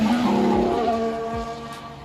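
Formula 1 car with a 1.6-litre V6 turbo engine screams past, a loud high-pitched engine wail that sweeps down in pitch as it passes, with a second car's note following close behind.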